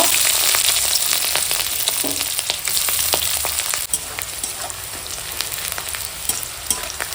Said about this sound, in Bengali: এখন পেঁয়াজ কাঁচা লঙ্কাটা ওই তেলেই ভেজে নেব